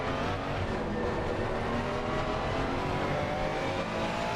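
Race cars in a sim racing game at Zolder roar steadily at high revs through the final chicane, a dense continuous engine drone with no voices over it.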